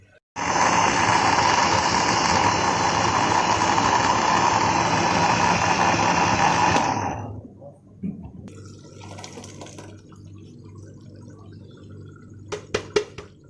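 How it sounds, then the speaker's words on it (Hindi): Electric mixer grinder whirring loudly as it grinds spices for mutton korma, a steady harsh roar for about seven seconds that winds down and stops, followed by quiet kitchen clinks and handling noises. "अब ये इसको मैं अब ग्राइंड करूँगी"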